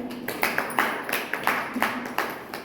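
A small audience at an Ayurveda health session claps in a loose, fairly sparse rhythm, distinct individual claps standing out rather than a dense roar, heard at moderate distance without speech.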